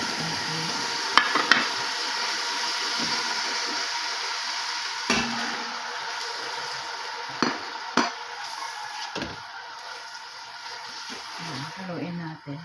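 Chicken adobo frying in a pan, with a steady sizzle and occasional clacks of a utensil stirring against the pan, while a voice talks faintly over it.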